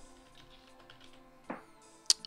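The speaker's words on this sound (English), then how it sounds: "I am in the midst of typing in cheat codes" A few quiet, scattered key clicks on a computer keyboard while cheat codes are typed into a game, with one sharper tap near the end against a faint steady background hum.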